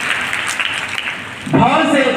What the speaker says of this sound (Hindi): तालियां बजाइए इसके लिए।